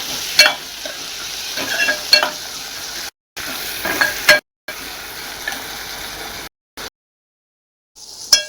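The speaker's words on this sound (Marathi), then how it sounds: "नरम होईपर्यंत चांगला फ्राय करायचा आहे मसाला" Masala and sliced onion frying in a pan for a sandge bhaji, with a steady sizzle broken by scraping stirs and a few brief silent gaps, close and fairly loud.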